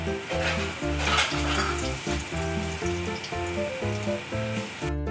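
Fish roe sizzles in hot oil in a pan, a steady loud frying crackle with occasional stirring clinks running throughout, no voices.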